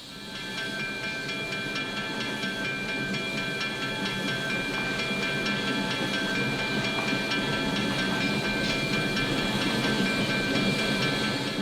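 Steam locomotive No. 13 of the Dry Brook & Esopus Valley in K&L Trainz, running uphill on a break-in run, gives a steady, continuous rumble with faint rail clatter and sustained hiss, alone and without talk.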